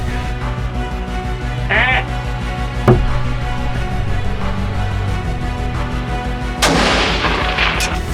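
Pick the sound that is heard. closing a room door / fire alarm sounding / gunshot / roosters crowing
gunshot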